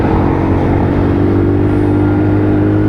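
A WK Colt 50cc geared bike engine revving while accelerating on a ride: a loud, close, steady buzzing drone with a constant tone, no pauses, and no talking over it.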